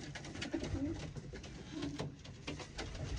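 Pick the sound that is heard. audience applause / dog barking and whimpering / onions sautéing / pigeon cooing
pigeon cooing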